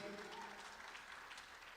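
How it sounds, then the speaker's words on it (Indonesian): A congregation at a Pentecostal prayer rally claps in praise, a brief quiet wash of applause that sounds somewhat distant. "Tepuk tangan buat Tuhan Yesus."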